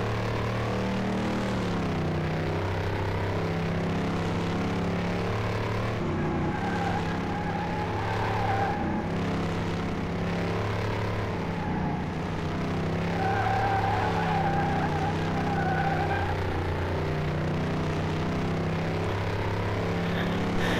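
A Dodge Charger driven at speed in the Car Mechanic video game, a steady loud engine drone with sustained tonal revving and some tire noise, running without a break.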